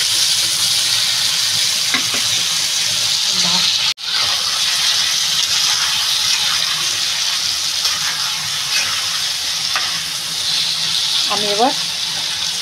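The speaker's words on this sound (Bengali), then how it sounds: "এদিকে যে টমাটোটা কেটে রেখেছি টমাটোটাও দিয়ে দেবো। এটা ভালো করে কষাবো।" Chopped tomato sautéing in a pan for a Bengali rohu (katla) fish and potato curry, a steady broadband sizzle and hiss running throughout, with occasional stirring scrapes and a brief dip partway through.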